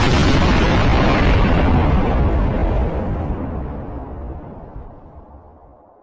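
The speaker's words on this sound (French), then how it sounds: "la surface de la pierre se lézarde soudainement, s'effondrant sur elle-même dans un silence assourdissant, aussitôt suivi d'une explosion cataclysmique" A cataclysmic explosion of the Worldstone in the Diablo game, a massive roaring blast that starts loud and broad and then slowly dies away into a fading rumble.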